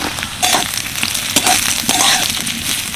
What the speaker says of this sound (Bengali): গাজর যেহেতু সিদ্ধ হতে একটু সময় লাগে বেশি, সেই জন্য আগে থেকে দিয়ে একটু ভেজে নিলাম